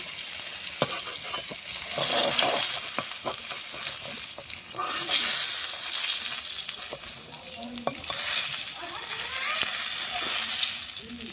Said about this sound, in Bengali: বেগুনগুলো আমি হালকা করে ভেজে নিচ্ছি